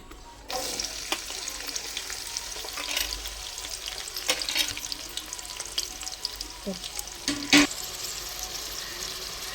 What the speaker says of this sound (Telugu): ఇందులో కట్ చేసి పెట్టుకున్న రెండు ఉల్లిపాయలు ఒక ఐదు పచ్చిమిర్చి వేసేద్దాం